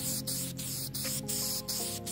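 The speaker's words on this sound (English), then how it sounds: "first order of business, spray the spiderweb." Spray paint hisses in quick rhythmic bursts as a spiderweb pattern is applied onto a tumbler outdoors, about five short pulses over a steady loud background, close by.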